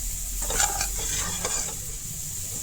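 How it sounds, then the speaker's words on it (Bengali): Radish sweet mixture gently stirred in a pan, soft scraping strokes of a spoon over a low, continuous sizzle, close up, with a couple of brief clinks and no talking. "এখন হালকা হালকা হাতে, খুব জোরে না, ধীরে ধীরে ধীরে ধীরে নাড়াচাড়া করবা।"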